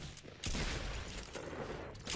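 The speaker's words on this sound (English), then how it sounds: "I tagged him a couple times and then just finished him off with a shotgun." Shotgun blasts from a Fortnite match, a sharp loud report followed by dense, rolling gunfire and booming that fills the whole stretch, with a second burst near the end.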